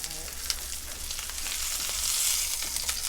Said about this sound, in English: Oh, that grease splatter.